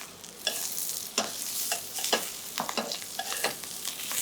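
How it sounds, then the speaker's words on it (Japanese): Turnips grilling in a pan over medium heat, giving a constant sizzle with about a dozen sharp, close scrapes and clacks as they are stirred and turned, and no talking. "中火でじっくりと枝もパリッと焼き上げます。"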